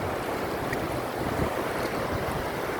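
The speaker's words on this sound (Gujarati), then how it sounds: "જો પાણીની આવક તો છે પણ દરિયામાં જાય અટાણે" Flood water rushing out toward the sea, a steady broadband roar of surging water mixed with wind buffeting the microphone, loud and continuous throughout with no voices.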